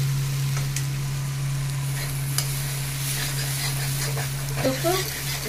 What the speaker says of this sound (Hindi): प्याज मैंने काट के रखा था, उसको भी मैं अब इसी में दे देती हूँ। इसको भी अच्छे से फ्राई करूंगी।